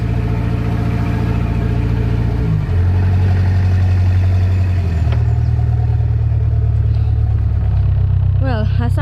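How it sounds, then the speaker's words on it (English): A boat engine runs on the Norfolk Broads, a loud, close, continuous rumbling drone that shifts pitch a couple of times as it revs. "I'm just gonna have to switch on the engine. And this is gonna be very loud."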